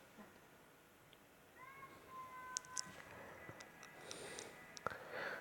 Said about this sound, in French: Désolé, c'était mon chat.